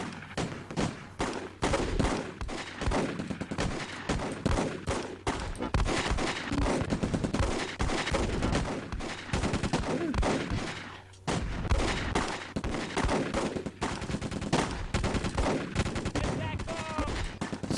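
Sustained machine gun fire and scattered shots from the World War II tactics game Close Combat, set in hedgerow country, rattling in dense overlapping bursts almost continuously, with heavier thuds mixed in and faint speech underneath.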